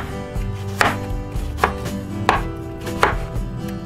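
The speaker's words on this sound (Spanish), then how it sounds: "cortamos en cubitos el pepino." Knife chopping cucumber into cubes on a cutting board: four crisp, evenly spaced chops land over a few seconds, close and clear with no voices.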